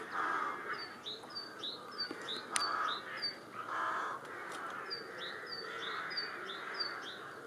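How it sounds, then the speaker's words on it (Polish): Spring birds call outside a window in Łowicz, Poland: repeated short chirps and crow-like caws, some close and some farther off, over a quiet background hiss. "Wiosenny śpiew ptaków"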